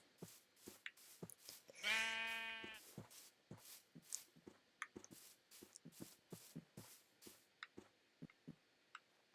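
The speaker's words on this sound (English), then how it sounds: "Where's this other white sheep?" A single sheep bleat from the Minecraft video game, a wavering harmonic call about a second long, rising out of a steady pattern of soft clicking game sounds.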